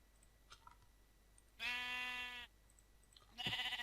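Sheep bleating in Minecraft, one sustained nasal bleat followed by a second starting near the end, fairly clear over a quiet background with faint game clicks.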